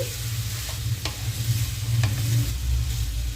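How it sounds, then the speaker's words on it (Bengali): Mixed vegetables with grated ginger sizzling loudly in a hot pan while being stirred, a dense frying crackle punctuated by a few sharp scrapes of the spoon. "দিয়ে সব সবজির সাথে গ্রেট করা আদাটা মিশিয়ে দিচ্ছি।"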